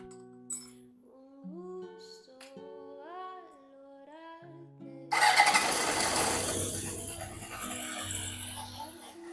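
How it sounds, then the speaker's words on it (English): A 1978 Honda CB750 motorcycle starts up: the starter whirs in bursts, then the engine catches at about five seconds and settles into a loud, steady idle close to the microphone. "Let's get the motorcycle started so we can get some oil moving."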